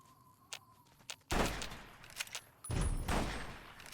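Gunfire in Fallout: New Vegas, a few distant single shots followed by two louder bursts of rapid firing, with no talk over it.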